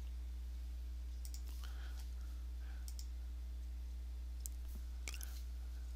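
Computer mouse clicking quietly a few times, crisp faint clicks spread over a steady low hum.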